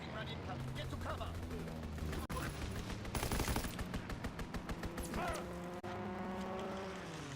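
Rapid bursts of machine-gun fire from an enemy aircraft strafing run in Call of Duty WWII, a fast rattling volley in the middle with engine roar and battle noise around it and voices under the action.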